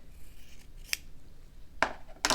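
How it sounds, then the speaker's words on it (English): Scissors trim fabric in a quiet room with three crisp snips: one short cut near the start, then two closer, louder cuts toward the end. "now I'll trim that up"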